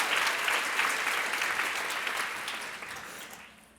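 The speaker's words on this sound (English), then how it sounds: "Please give yourselves a round of applause." A conference audience breaks into sustained applause that is dense and steady, then gradually tapers off toward the end, with no voices over it.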